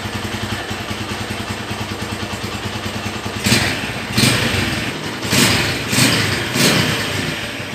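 Red 2011 Honda Tiger Revo SE motorcycle in original condition, idling steadily before the throttle is blipped in four or five short, loud revs with a faint whine, each falling back to idle.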